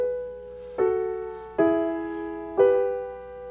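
Closing song of Schoenberg's Pierrot Lunaire settling into old triadic harmony: sustained instrumental chords attacked three times at roughly one-second intervals, each swelling then slowly fading, clear and unaccompanied by talk.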